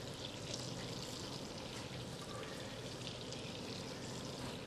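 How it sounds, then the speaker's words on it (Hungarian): Steady water pours and splashes into a roasting pan holding duck breast, a continuous soft hiss at moderate distance. "Egy kis vízzel fölöntjük."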